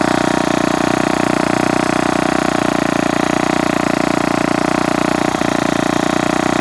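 Ryobi S430 four-stroke string trimmer engine idling, a steady, loud, close mechanical drone with an even rapid pulse and no change in pitch, no voices.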